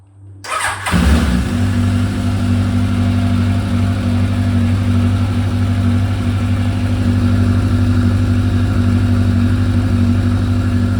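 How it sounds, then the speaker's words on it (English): A 1983 Honda CB1100F DOHC motorcycle, already warm and on a bit of choke, cranks briefly and catches, then settles into a steady, loud, even idle that runs on close by without any talking. "let's start this bike up. It was started about an hour ago, so it should start just with a bit of choke"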